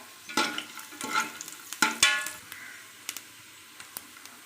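Coconut and onion dry-roasting in a pan while being stirred, giving repeated scraping strokes and bursts of crackle, loud early then thinning into sparse clicks.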